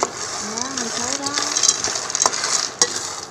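Sacha inchi seeds roasting with salt in a pan on an electric stove: a continuous dry sizzle and rustle with scattered clicks and scraping stirs, while a voice speaks briefly over it.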